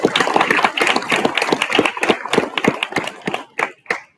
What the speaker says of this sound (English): Let's give the leads a huge round of applause.